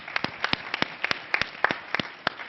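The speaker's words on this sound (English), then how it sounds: "everybody give a round of applause for ourselves" Scattered, fairly sparse clapping from a small panel-discussion audience, distinct individual claps in an uneven rhythm, moderately close and not very loud.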